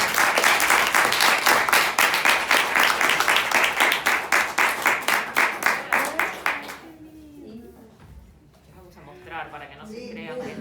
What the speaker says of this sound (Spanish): queremos darle unos presentes por haber participado y un aplauso primero